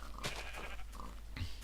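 Bleating of yellow-wooled sheep in a block-building video game farm, a couple of short nasal calls at close range standing alone over a steady low background hum.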